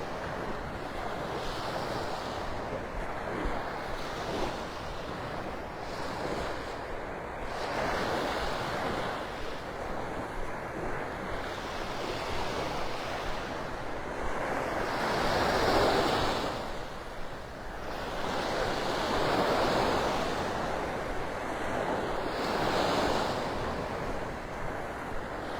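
Ocean surf rolls onto the beach at Delnor-Wiggins in North Naples, Florida, in repeated swelling washes every few seconds under steady wind noise on the microphone, with no talking.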